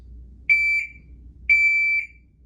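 A shot timer set for dry-fire draw practice sounds two identical high electronic beeps exactly one second apart, each clean, steady and loud, with quiet hum between them.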